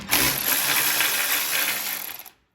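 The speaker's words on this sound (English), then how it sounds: "I'm gonna put the socket underneath, and we're just gonna unscrew it." A socket wrench works loose a bolt beneath the frame of a Craftsman LT2000 riding mower, giving a steady close-up metallic ratcheting and scraping for about two seconds before stopping abruptly.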